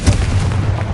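A Confringo fire spell from Hogwarts Legacy bursts in a single loud, close, booming explosion that rumbles for about a second.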